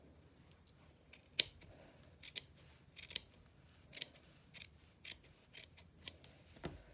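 Scissors trimming the seam allowance of a wool shirt collar, with a series of quiet, crisp snips at an uneven rhythm, close up and isolated in a quiet room.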